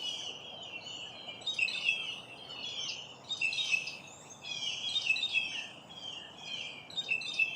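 Wild birds such as blue jays and mockingbirds chirp and call repeatedly in a continuous, moderately distant chorus outdoors, with no voices.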